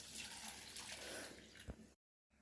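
Water poured to rinse a dish: a soft, close splash and trickle for about two seconds that stops abruptly into silence, then faint room tone returns.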